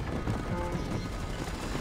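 Galloping horse hooves in the Red Dead Redemption video game on PS4 make a quick, loud, steady clip-clop run that plays close and alone for just under two seconds.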